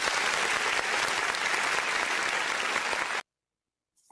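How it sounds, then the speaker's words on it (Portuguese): Applause from a crowd rolls steadily for about three seconds as a dense, loud clatter of clapping, then cuts off abruptly into silence. "Uma salva de palmas para o UOL, Bruno."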